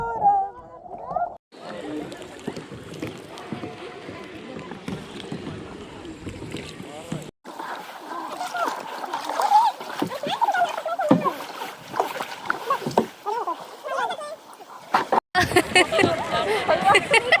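Kayak or canoe paddling on the water at Malvan, the paddle strokes and boat movement steady and fairly close, with people talking over it throughout.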